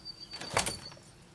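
A back door fitted with a magnetic alarm sensor opens in one brief, faint clunk, with a thin steady tone running quietly underneath.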